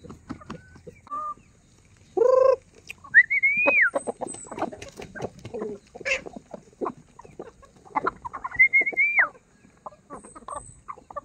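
Backyard chickens cluck and call close by in a steady string of short squawks, with a few longer whistling, crowing-like calls standing out.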